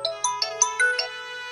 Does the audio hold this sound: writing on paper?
no